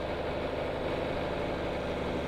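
Tractor engine idling in a hay-baling farming video game, a steady low rumble at constant level with no changes in pitch, moderately quiet.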